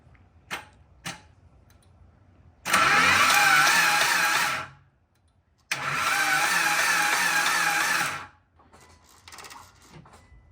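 A Mitsubishi Evo 9 MR engine cranks twice in long loud bursts of about two seconds each, with a short pause between and faint clicks before and after, and it never settles into a steady idle.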